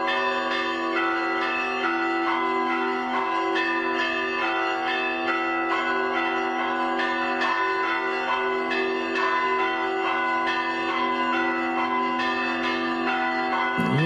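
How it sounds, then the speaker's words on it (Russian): Church bells ring at the Peter and Paul Cathedral in Peterhof, a steady, loud peal of overlapping strikes that sounds throughout, with no voices. "Вот этого колокольного звона не хватало всегда в Петергофе."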